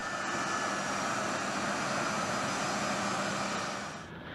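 A C-17 Globemaster military transport aircraft, a loud, steady broadband engine roar that holds evenly for several seconds before fading slightly at the end.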